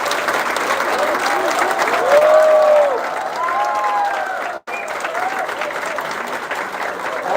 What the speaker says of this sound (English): give a big round of applause to all the students who have congratulated